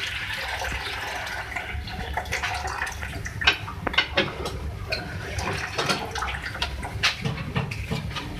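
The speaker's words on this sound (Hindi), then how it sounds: "दो गिलास इसमें मैं पानी ऐड कर रही हूँ।" Two glasses of water are poured into a cooking pot holding oil for a beef, potato and cabbage curry, a close splashing, gurgling stream with a few sharper splashes, no talk over it.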